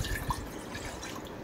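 A cup of water is poured into a pot sitting on a gas stove. Brief, close splashing and dripping sounds fade quickly, with no talk.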